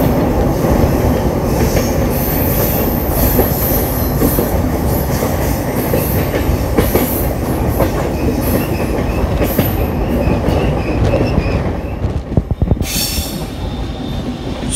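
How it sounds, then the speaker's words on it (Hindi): A train rolls near Alipurduar Junction on the Dooars route between Kamakhya and New Jalpaiguri, a loud continuous rumble of wheels and carriages close by, with wheel squeal as it curves and a sharp metallic flurry toward the end. "ट्रेन मुड़ रही है"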